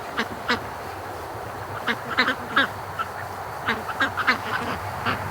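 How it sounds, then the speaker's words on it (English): Free-range ducks quack in scattered bursts over a steady outdoor background, a few calls overlapping and others spaced apart, moderately close and fairly loud. "the ducks just came running towards me."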